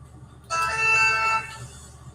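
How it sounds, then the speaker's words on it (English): A mobile phone rings in a courtroom during a hearing, a bright electronic tone with steady harmonic lines sounding for about a second at moderate level, then cutting off into quiet room ambience. "His phone went off again."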